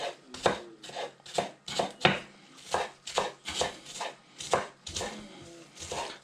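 Knife chopping onion on a board for an omelet breakfast, a steady run of about fourteen crisp, close thuds in an uneven rhythm, loud and dry with no talking.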